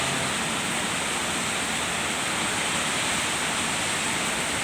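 Heavy rain pours down during the rainy season, a dense, constant hiss of falling water that stays loud and even throughout, with no voices.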